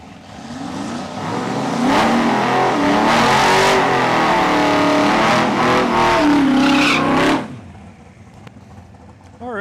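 Drag racing cars doing burnouts at a raceway, with loud roaring, revving engines and screeching tires filling the air for about seven seconds before cutting off abruptly to a quieter background with some talk.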